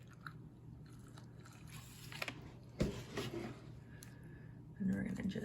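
Someone crunching and chewing Cinnamon Toast Crunch cereal in milk, with soft bites and munching at close range against a quiet background.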